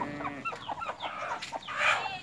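Kadaknath chickens cluck busily at close range while feeding, a quick run of overlapping clucks and short calls with no talking.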